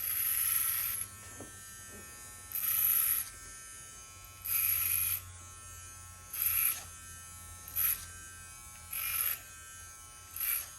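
Electric hair clippers fitted with a 1.5 guard buzz through hair during a high taper cut, running in about seven separate bursts with short pauses between them, close and steady, with no talking.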